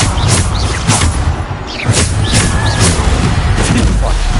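Bombarda explosive spell blasts in Hogwarts Legacy, loud and dense with repeated booming impacts and crackling debris, with game sounds and voices running underneath throughout.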